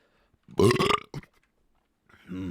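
A loud, strained burp from a person, one long rough belch lasting about half a second, followed by a short trailing grunt and then a drawn-out vocal groan.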